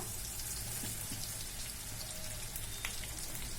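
Food frying crisp in hot oil while it is stirred, giving a dense, even, rain-like crackle and sputter that holds steady up close throughout, with no talk.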